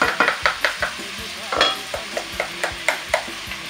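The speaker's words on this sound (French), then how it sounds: "Alors, je vais tourner mon riz." Rice and potatoes stirred in a pot with a utensil, a steady rhythm of scraping strokes with a light sizzle underneath, close and fairly loud with no talk.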